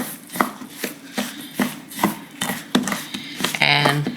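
Crumb topping for a maple blueberry coffee cake is mixed in a bowl, with a regular series of close, sharp tapping and scraping strokes about every half second, ending in a brief clatter.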